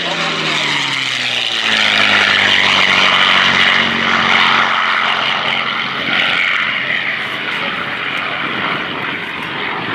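A P-51 Mustang propeller fighter plane roars past at an airshow, its engine drone rising then easing, loud and steady throughout with a voice talking faintly underneath.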